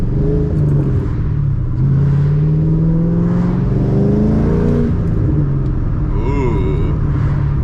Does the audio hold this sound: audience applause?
no